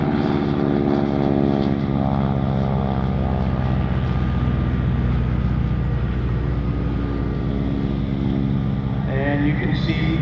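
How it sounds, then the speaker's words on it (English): A Jersey Jerks formation plane comes in to land at the Greater Binghamton Airshow, its propeller engine droning steadily and loudly throughout, with a slight rise in pitch near the end. "Here comes Jersey Jerk number 2. This one is going to land a little closer in."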